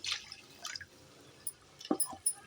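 Water sloshing and dripping in short bursts, with a few splashy pours and drips close by as it is poured from a blender jar into a pan of garlic curry, no voices.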